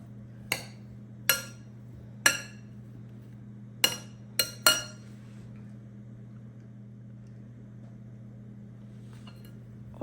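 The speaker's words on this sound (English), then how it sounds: "Stir it a little." Food stirred in a pot in a home kitchen: about six sharp metallic clinks from the utensil striking the pot in the first five seconds over a steady low hum, followed by near quiet.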